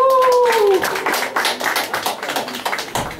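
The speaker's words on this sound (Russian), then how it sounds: "Давайте вот, тоже им похлопаем." A small piano-bar crowd in St. Petersburg claps for a band, brief and fairly close, with a short held electronic tone fading at the start and a faint voice in the background.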